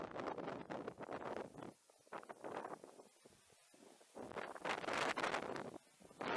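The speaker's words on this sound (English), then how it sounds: "that wind's blowing like a demon as well" Strong wind buffets the microphone at Weston Pools fishing lake during a match, roaring gusts that rise, drop away briefly and surge back loud and close.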